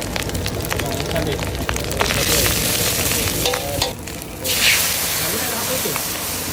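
Mie goreng noodles frying at a street food stall, with a loud, continuous sizzle and hiss and the scrape of stirring in the pan, while people talk nearby.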